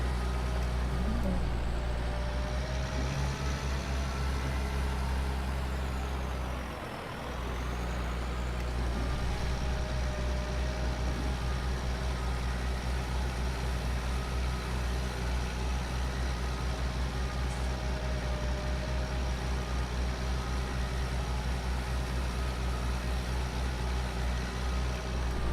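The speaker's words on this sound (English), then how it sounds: "This tractor really does sound" A tractor engine runs steadily in a farm field after drilling and fertilising, a constant low droning hum with a brief dip partway through, close and alone.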